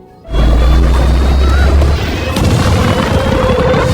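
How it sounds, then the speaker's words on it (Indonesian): Trucks crash into an oil tank and blow up in a film scene, a loud deep boom erupting suddenly and rolling on as a sustained rumbling roar with crackling debris. "menyebabkan 3 truk milik Owen terbalik lalu meledak"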